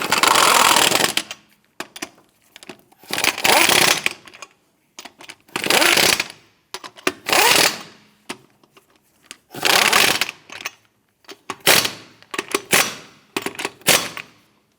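A power impact tool snugs down the wheel lug nuts on a 2008-2013 Nissan Rogue, with roughly eight loud rattling bursts of a second or so each, separated by short quiet gaps. No one speaks.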